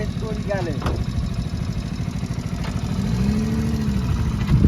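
Steady low motorbike engine running with a gradual rev rising toward the end, close by, with faint whistling tones above.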